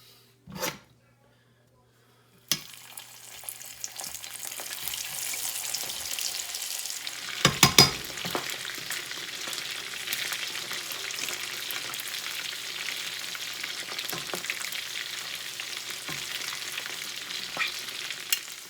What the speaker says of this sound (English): while those are frying away